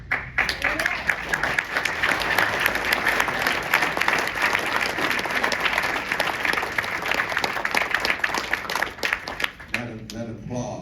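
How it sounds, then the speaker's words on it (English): Loud, sustained applause from an audience inside First Presbyterian Church, a thick bed of clapping that fades near the end as a voice begins to speak. "That applause"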